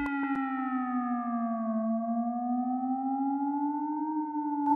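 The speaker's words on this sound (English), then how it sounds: "that's gonna basically make the pitch of oscillator one slowly move up and down according to the LFO" A single sustained synth oscillator note whose pitch is slowly swept up and down by a slow LFO, a smooth siren-like glide, steady and alone with no talk.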